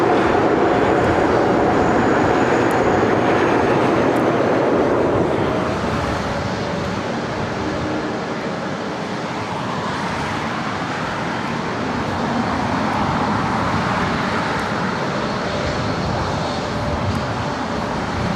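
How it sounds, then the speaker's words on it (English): An Airbus A380 jet airliner arriving from Seoul at LAX gives a steady, loud broadband engine roar that holds throughout with a slight swell, with no talk over it. "Flight time from Seoul on this A380 is 10 hours and 15 minutes."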